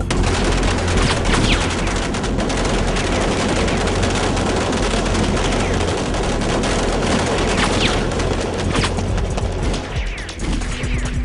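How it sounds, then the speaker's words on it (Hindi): Sustained volley of gunfire in a Hindi-dubbed Hollywood sci-fi action movie: dense, rapid shots overlapping into a loud continuous barrage that holds steady, easing slightly near the end. "सब एक साथ फायर करो।"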